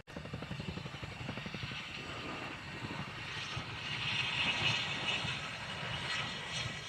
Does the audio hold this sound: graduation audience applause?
no